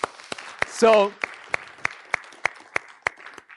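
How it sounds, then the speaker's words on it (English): A small audience at a talk on social entrepreneurship applauds, with sparse, distinct hand claps spaced out in an uneven rhythm; early on, a short spoken word cuts briefly across the clapping. "Give Kal a round of applause."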